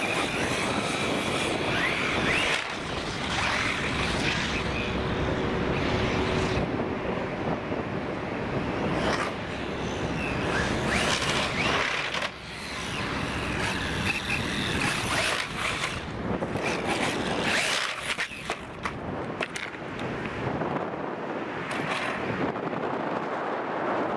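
A Radix 6 radio-controlled car doing wheelies, its electric motor whining and revving in a sustained loud outdoor roar with wind buffeting the microphone throughout.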